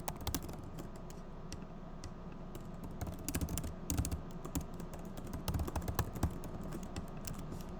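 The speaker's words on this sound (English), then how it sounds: "So now I'm just typing in the skeleton." Steady typing on a computer keyboard, close and fairly quiet, with rapid irregular key clicks running continuously and a few louder bursts of keystrokes, no talking.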